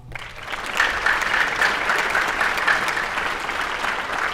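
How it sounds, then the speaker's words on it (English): An audience at a high school winter band concert applauds the wind ensemble: a full, steady round of clapping that swells after a moment and holds strong, with no voices over it. "Little trick to get you to keep applauding"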